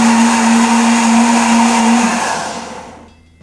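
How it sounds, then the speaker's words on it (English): A loud Hurom M100 slow juicer and blender runs a smoothie, whirring steadily with a high motor whine, then winds down and stops near the end. "press the start button, see how loud it is"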